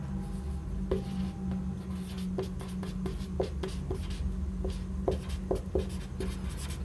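Chalk or marker strokes on a board during a chemistry lecture on Pythagoras' theorem, a series of short sharp taps and scratches in irregular rhythm over a steady low hum, close and moderately loud.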